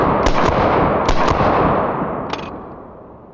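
A 9mm MP5 submachine gun fires a few sharp shots in quick succession, then a lone shot after a pause, each crack loud and close with a decaying echo tail.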